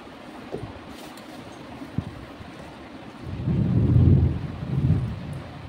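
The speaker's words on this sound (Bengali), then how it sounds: "প্রচণ্ড জোরে বৃষ্টি হচ্ছে বাইরে" Heavy rain pours down outdoors with a low rumble of thunder rolling in and swelling, then fading, over a steady wash of rainfall.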